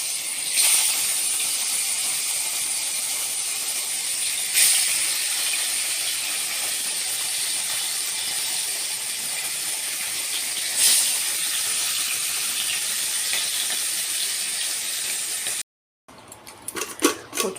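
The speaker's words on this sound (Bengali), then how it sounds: "কচু শাকগুলো প্রেসারে বসিয়ে দিয়েছি সেদ্ধ হওয়ার জন্য" A pressure cooker boiling taro leaves gives off a loud, continuous hiss of escaping steam that holds steady for a long stretch, with a few brief louder spurts. It cuts off near the end, and some faint clattering follows.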